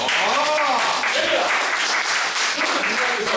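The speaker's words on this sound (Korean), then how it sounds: "박수가 나와야죠?" Lecture audience breaking into applause, a dense, even wash of clapping from many people that holds steady for a few seconds, with voices mixed in.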